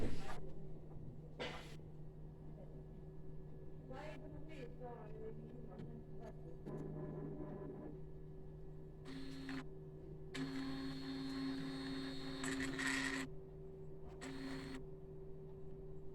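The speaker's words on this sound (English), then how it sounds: "Let's try to turn the printer on." A UV printer powering up after repair gives off a steady electrical hum with intermittent whirring and mechanical bursts, some with a tonal whine, plus scattered clicks and handling noises close by.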